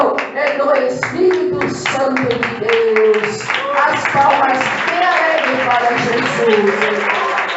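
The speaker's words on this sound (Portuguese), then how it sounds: "As palmas bem alegres para Jesus." Joyful, rhythmic clapping for Jesus during a church radio program, with voices singing or speaking over the steady beat of hands.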